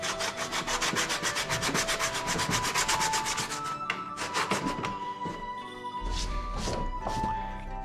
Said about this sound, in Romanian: acum îl vom șlefui la mână pentru a avea ceva mai mult control